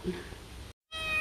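A pet cat meows in the background of a home kitchen during no-bake Oreo pudding pie preparation, a short quiet call followed by a brief silence and faint tonal sound.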